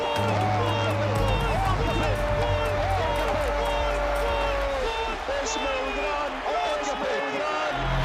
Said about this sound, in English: some of the crowd here are applauding Barcelona. Real Madrid fans applauding Ronaldinho's goal